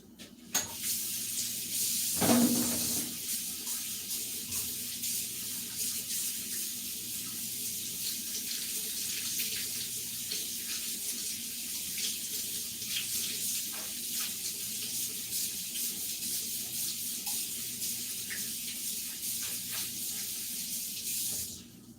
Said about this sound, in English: I've washed a cucumber and a lime.